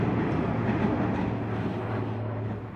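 A Sydney Waratah electric train, set A72, rumbles at Turrella station with a steady, loud, continuous roar of wheels and motors and no voices over it.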